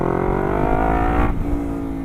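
Lexmoto LXR380 motorcycle engine revving hard through an open exhaust, a loud, steady raspy drone that holds high and then shifts pitch partway through, close up with no talking.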